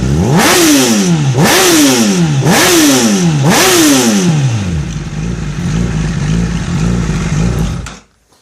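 A Honda CBR1000RR superbike with a brand-new engine and new race spark plugs revs hard four times in quick rising-and-falling sweeps, then settles into a loud, rumbling idle before cutting off abruptly.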